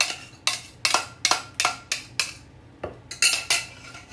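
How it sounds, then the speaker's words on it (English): Eggs, butter, milk and vanilla being mixed into dry muffin batter ingredients in a bowl, a regular series of sharp utensil strikes against the bowl, roughly two per second, close and loud with no speech. "we're going to mix it into this dry ingredients here"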